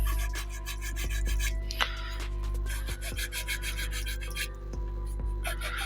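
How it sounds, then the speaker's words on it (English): Sandpaper rubbing against wood inside the gun ports of a San Felipe model ship's bulwarks, close-up rasping strokes repeated in a quick, uneven rhythm. "Now just slide sanding inside"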